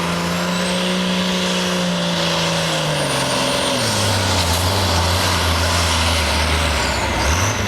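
A farm pulling tractor at a tractor pull event roars loudly and steadily, its engine pitch dropping then climbing as it revs, with a heavy continuous drone and no voices.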